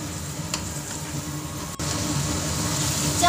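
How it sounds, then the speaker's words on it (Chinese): Minced ginger sizzles steadily in about 500 grams of hot cooking oil in a wok, a dense continuous frying hiss that holds at even loudness throughout with a brief dip midway, no voices present. "翻炒"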